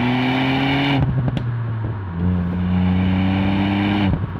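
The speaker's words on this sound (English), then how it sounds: "Does the exhaust crackle and pop? Yes, have a listen to this." Ford Fiesta ST hot hatch with a bimodal exhaust revving hard, engine note rising and dropping between gears with sharp crackles and pops on the overrun, loud and close, no talking.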